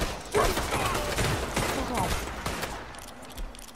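Rapid gunfire bursts from a video game shootout fill the space, several sharp volleys overlapping with game ambience throughout.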